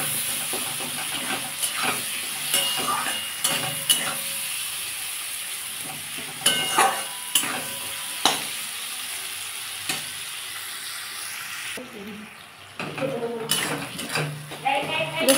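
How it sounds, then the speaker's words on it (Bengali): Onions and tomatoes with salt and turmeric fry in a pan, giving a steady close sizzle broken by clinks and scrapes of stirring. "এই পেঁয়াজটা টমেটোটা ভালো করে ভেজে নেব"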